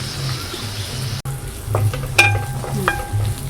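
Ingredients for a drumstick leaf sambar sauté in a hot pan, a steady sizzle broken by a few sharp clinks of a spoon against the metal, close and fairly quiet.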